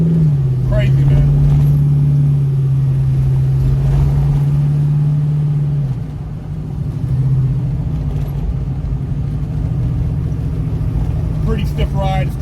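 A 600hp Chevelle on coilovers with bigger tires cruises on the freeway, its engine droning as a loud, steady low rumble that dips briefly midway, with road noise under someone talking.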